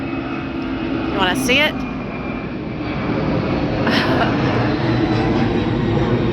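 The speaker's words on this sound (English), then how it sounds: "Sorry about the plane." A fixed-wing airplane passes overhead near an airport, a steady broad engine roar that swells slightly and continues throughout, with a brief spoken phrase and a couple of faint chirps over it outdoors.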